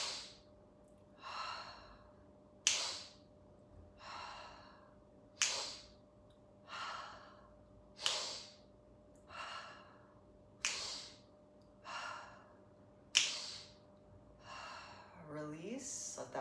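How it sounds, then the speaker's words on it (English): Repeated yoga breathing drill: short, sharp inhales through the nose followed by soft passive exhales through the mouth, in an even rhythm of about ten cycles, close and clear, with a low steady hum beneath. "short inhale in through the nose, passive exhale out through the mouth"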